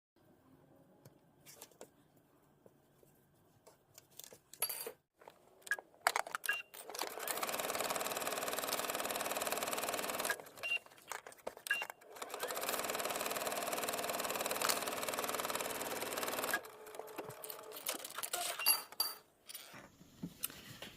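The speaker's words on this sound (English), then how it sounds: "we'll take it to the machine and stitch it within 2 inches of that notch" A home sewing machine stitches a garment seam in two long steady runs, loud and close, separated by short pauses with light clinks and handling noises.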